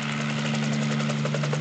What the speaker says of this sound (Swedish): Det är inte tillåtet att åka till skolan med helikopter.